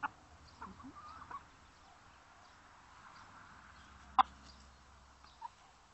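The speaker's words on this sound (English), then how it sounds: "More hand-fed chickens." Faint, scattered clucks from chickens close by in a quiet setting, with a couple of sharper clucks standing out.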